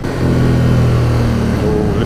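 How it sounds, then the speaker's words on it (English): A KTM 790 Duke motorcycle with its standard exhaust rumbles while riding, giving a deep, steady engine note held close and loud with a slight rise toward the end. "Oh, listen to that exhaust."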